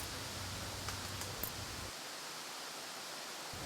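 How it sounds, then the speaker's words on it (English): Steady broadband wind noise blowing continuously, fairly uniform in loudness with a slight drop in low rumble partway through, no voices present. "No voices, only the wind."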